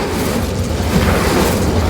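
Hogwarts Legacy Incendio fire spell: a loud, dense rumbling blast like a roaring whoosh of flame, filling the whole moment without a clear attack.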